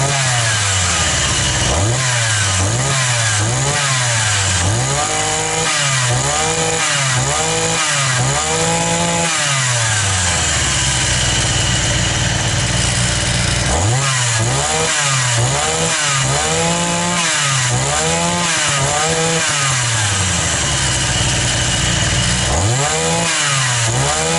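A repaired petrol brush cutter engine runs loud and steady throughout, its pitch repeatedly swooping up and down as the throttle is blipped in regular revving cycles.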